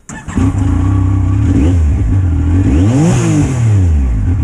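A Yamaha YXZ1000R utility vehicle engine with a tune spacer starts up and revs, its pitch climbing and dipping as it accelerates, loud and throaty throughout with no talking.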